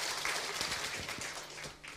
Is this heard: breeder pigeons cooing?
no